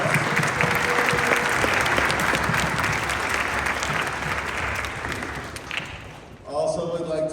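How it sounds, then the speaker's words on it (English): A school audience applauds a school board director: dense, sustained clapping close by that thins slightly toward the end before a voice begins speaking. "please give him a round of applause"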